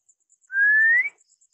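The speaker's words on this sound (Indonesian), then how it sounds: "Diam ya, saya siul lagi ya." A single clear whistled note, rising slightly and held for about half a second, sounds outdoors at night against quiet background with faint insect-like chirps.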